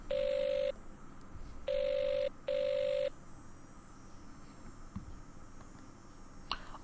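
A telephone rings in the Agatha Christie: Evil Under the Sun video game, an electronic trill in three near, evenly loud bursts, the last two close together, followed by quiet room tone and a faint click.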